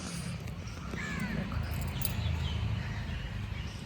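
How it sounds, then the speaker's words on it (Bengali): Birds calling around a village: faint, distant caws and a few chirps rise over a steady outdoor hum, scattered irregularly through the quiet open air. "এই পাখি আওয়াজ করছে তো ওই পাখি আওয়াজ করছে"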